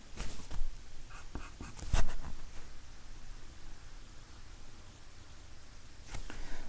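Pencil drawing a curve on paper for a one-point perspective letter S, with soft scratchy strokes close up, a few sharper taps, then a quieter steady scrape over faint background hiss.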